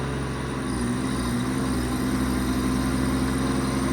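Auxiliary EnPak engine on a 2015 Ram 5500 service truck with a 7k Autocrane, idling steadily with a constant low hum and mechanical drone, close and continuous throughout.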